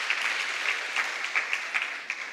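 An audience at a church gathering applauding, steady dense clapping from a crowd heard at moderate distance, with light accents throughout and no talking over it.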